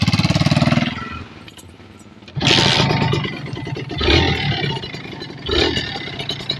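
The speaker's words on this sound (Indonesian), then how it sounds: "Ini tinggal kita coba nyalakan nih mas." Kawasaki Ninja RR two-stroke motorcycle starting after a carburetor and membrane service: a rough rattling engine burst, a short pause, then the engine catches and revs in uneven loud pulses, close by.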